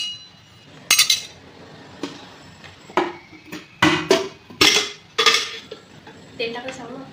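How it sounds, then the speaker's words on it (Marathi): An iron kadhai (wok) set on a gas stove, a series of sharp metallic clanks and clinks spaced irregularly, close and fairly loud with a voice speaking faintly in between. "आणि आता कढई ठेवलेली आहे।"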